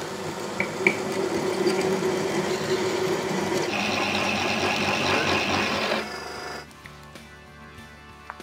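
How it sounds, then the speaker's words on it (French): A PC30 three-phase pillar drill runs steadily while drilling a hole, a continuous even machine hum and cutting noise that holds for about six seconds, then cuts off as the motor stops, leaving a faint room tone. "il ne nous reste plus qu'une chose à faire, c'est de venir percer"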